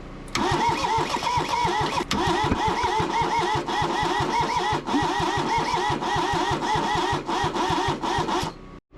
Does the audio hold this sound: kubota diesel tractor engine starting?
yes